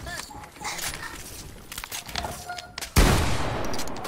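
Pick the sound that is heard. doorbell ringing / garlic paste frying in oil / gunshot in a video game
gunshot in a video game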